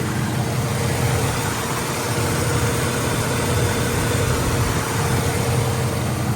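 A 1965 Oldsmobile 442 convertible's V8 with a Holley carburetor runs at a steady idle, a smooth low rumble heard close and loud without talking.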